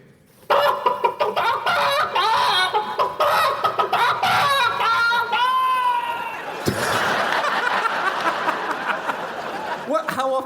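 A distressed chicken from a BBC sound-effects archive clucks and squawks in frantic, close bursts that carry on for several seconds, with a rougher, noisier stretch near the end.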